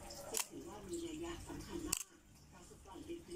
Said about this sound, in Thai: ชัตเตอร์ B ครับ